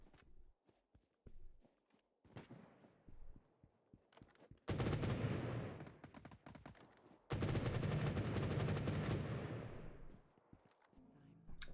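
An LMG machine gun in Battle Prime hammers out two long, continuous, loud bursts of rapid fire, preceded by scattered lighter shots and footsteps, with no talking.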